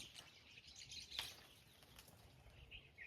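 Birds take off from village trees after a stone is thrown, their wings flapping in a brief flurry with a few faint chirps. Quiet and distant.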